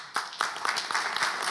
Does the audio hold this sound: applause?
yes